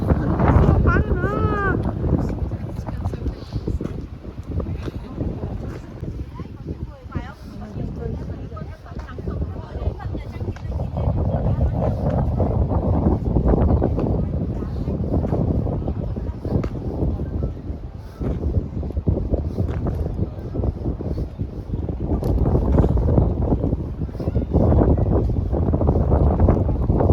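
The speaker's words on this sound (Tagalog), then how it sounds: "Oo, sobrang hangin." Strong wind buffets the microphone in heavy gusts at a cherry blossom day in Greenwich, rumbling and roaring throughout, with people talking faintly beneath the noise.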